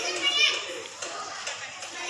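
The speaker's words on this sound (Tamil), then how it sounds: "உங்கள் பசங்களை விளையாடுறாங்க." Village children playing outdoors, their high voices calling and chattering close by in a lively, continuous stream.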